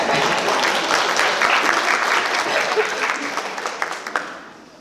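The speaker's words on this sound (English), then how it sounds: "That's a round of applause right" Audience applause at a story night fills the room, loud dense clapping that holds steady, then thins and fades toward the end.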